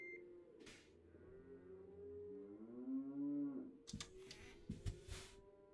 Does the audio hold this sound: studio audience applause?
no